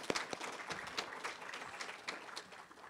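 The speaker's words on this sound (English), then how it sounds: "can we give them another round of applause" Faint, distant applause from a conference audience, scattered claps forming a soft continuous patter.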